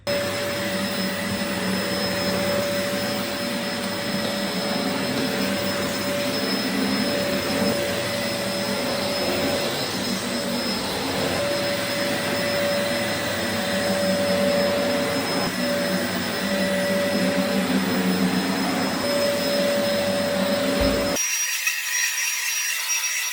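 An old Dyson DC04 Zorbster vacuum cleaner running on carpet, a loud steady whining motor roar that continues unbroken for over twenty seconds before cutting off abruptly near the end.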